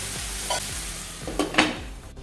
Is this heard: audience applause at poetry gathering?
no